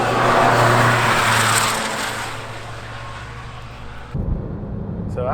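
A MINI Cooper 2.0 SD with a B47 diesel engine and custom exhaust drives along with a loud, broad engine roar and road rumble that eases off, then shifts to a lower, steadier drone.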